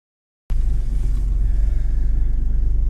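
The bi-turbo inline-four engine of a 2018 Mercedes-AMG CLA45 rumbles loud and close inside the car, kicking in suddenly after a brief silence and holding a steady, deep pulsing drone.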